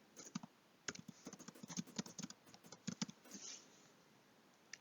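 Irregular, quick keystrokes on a computer keyboard, close and fairly quiet, with brief pauses between short bursts of typing and no talking.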